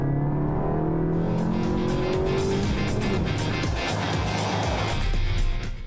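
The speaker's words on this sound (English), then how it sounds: "you can downshift once or twice and enjoy the high RPMs." SEAT Leon Cupra ST 290 accelerating hard at high RPM, its engine howling loud and close with rising revs, a quick gear change and a brief rasp as it keeps pulling.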